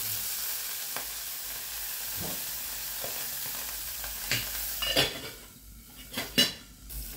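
Garlic and peperoncino fry in plenty of olive oil with a steady hiss. Sharp spatters and metal clinks from the pan build toward the end.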